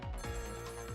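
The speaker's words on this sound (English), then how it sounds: "Phone starts ringing, but it's not for her." A telephone rings in the video game Ghost Trick, a repeating electronic bell tone that sounds steady and fairly close and plays alone for about a second.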